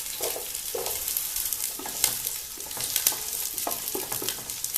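Green chillies and cubed medium onion fry in a pan for chilli chicken, a steady bright sizzle with scattered stirring scrapes throughout, close and continuous with no talking.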